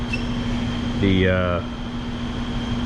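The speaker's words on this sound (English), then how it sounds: "The throttle body with no charge pipe on it is really loud. It whines." A GM LS V8 swapped into an Escalade runs with its throttle body open and no charge pipe fitted, giving a steady high whine over a constant low hum; a voice rises briefly in the middle.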